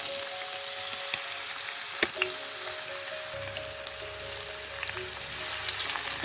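Onion frying in hot oil in a pan while preparing Tunisian merguez omelette: a continuous crackling sizzle with scattered pops, growing slightly fuller partway through, with no voices.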